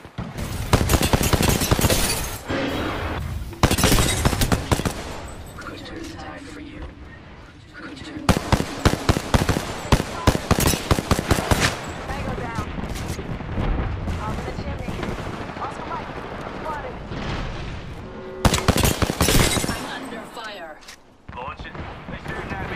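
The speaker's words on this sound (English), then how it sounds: "Joker's shooting at me" Rapid bursts of gunfire from Apex Legends crackle in dense, loud volleys, with repeated shots clustering in bursts and brief lulls between, under occasional talk.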